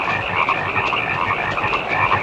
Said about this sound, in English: These frogs won't shut the fuck up.